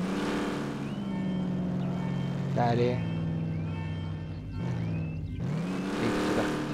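A stolen car driven in the video game American Fugitive, its steady engine drone rising and falling with the revs throughout, while people talk over it.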